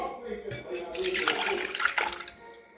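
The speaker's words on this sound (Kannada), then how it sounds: "ಈಗ ಫಸ್ಟಿಗೆ ನೀರು ಹಾಕೊಳ್ಳೋಣ ರೀ" Water gushes steadily into a pot for a couple of seconds, then cuts off, with a voice heard faintly.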